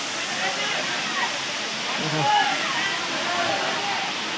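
Gudhwa waterfall roars in a continuous, fairly close rush of falling water while a person talks over it.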